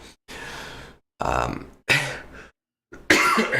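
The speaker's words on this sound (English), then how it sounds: "And now I have this lingering cough." Four harsh, close, lingering COVID coughs come one after another with short silent pauses between them.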